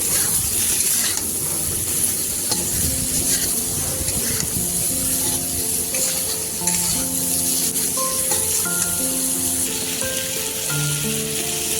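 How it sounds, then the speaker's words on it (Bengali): Ridge gourd sautéing with onion in a hot pan, a steady loud sizzle and frying hiss with occasional stirring scrapes throughout, no talk. "ঝিঙেগুলো দিয়ে আমি পেঁয়াজের সঙ্গে 5 মিনিটের মতো কষিয়ে নিচ্ছি"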